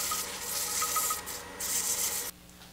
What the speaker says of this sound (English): I'm going to turn my lathe on very slowly and just take a little piece of sandpaper and get in that groove